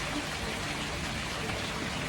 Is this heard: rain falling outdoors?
yes